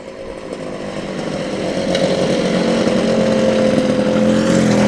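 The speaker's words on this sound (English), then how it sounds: "I can hear the distinctive rumble, the mighty rumble of a two-stroke engine." Several two-stroke scooters at a New Year's Day classic car meet, engines buzzing and rasping together close by in a steady, slowly swelling rumble.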